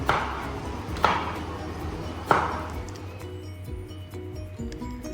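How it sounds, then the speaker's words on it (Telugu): Raw mangoes being chopped into pieces for mango pickle, with a few distinct knife strikes on a board amid steady low background noise and faint voices. "ఇప్పుడైతే ముక్కల్ని కొడుతున్నారు"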